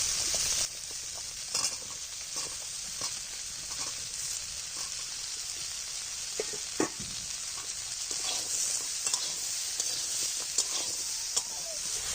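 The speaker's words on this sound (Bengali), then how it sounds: "সবজিগুলো কষানো হয়ে গেছে এবার ফুলগুলো দিয়ে দেবো" Vegetables and cauliflower florets are stir-fried in a village kitchen pan. A steady, close sizzle runs throughout, broken by occasional scraping stirs of the spatula, with no talking.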